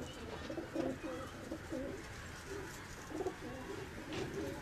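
Pigeon cooing from a rooftop loft of fancier's flying pigeons, repeated soft low coos in several bursts with other birds faintly around, no talk.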